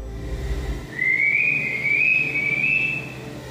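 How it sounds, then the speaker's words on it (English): A person whistles one long, rising, wavering note to kiwi eggs in an incubator, close and clear, held for a couple of seconds over a low background hum. "I'm whistling to try and stimulate them"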